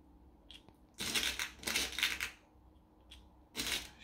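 Thirteen airgun pellets pushed into a 3D printed Daystate magazine, heard as several short bursts of close, gritty clicking and scraping, fairly quiet, with brief pauses between them.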